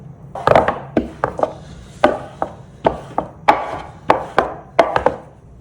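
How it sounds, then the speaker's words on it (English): Knife chopping tortilla dough on a wooden board, about a dozen crisp, uneven thuds in quick irregular bursts, close and clear with no talking. "Chop it up into however many tacos you want."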